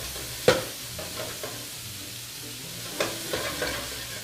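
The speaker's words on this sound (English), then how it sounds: "we're going to take our andouille sausage and our ham, we're going to saute them off, and we're going to brown them in our skillet" Andouille sausage and ham saute in a skillet with a soft background sizzle, broken by a sharp clatter near the start and a few spatula knocks and scrapes later, close by.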